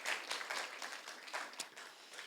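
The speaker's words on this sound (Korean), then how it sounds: "우리 박수로 환영하겠습니다" A church congregation applauds in welcome during a Korean worship service, a steady crackle of many hands clapping at moderate distance, fairly faint and sustained throughout.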